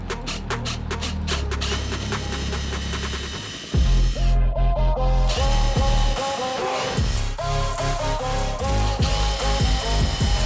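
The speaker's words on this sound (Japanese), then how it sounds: "下穴と座繰りを開けて 45mm 細ビスのステンレスで固定していきます" A power drill drives 45 mm thin stainless steel screws into wood while fixing a door on a DIY truck camper shell, with loud, close whirring bursts and rhythmic clicking over busy background music.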